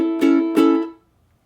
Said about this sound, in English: we're going to do 3 down strums, and if you noticed, it's that kind of staccato thing again